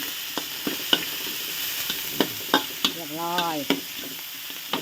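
Thin rice noodles and minced pork are stir-fried in a pan, with a continuous sizzle broken by scraping spatula strokes and clinks, heard close up and with no voices.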